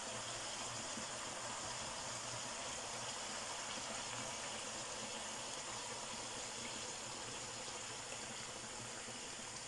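A soft, continuous pouring trickle of cream into a cooking pot with rabbit or hare, steady and faint throughout with no voices.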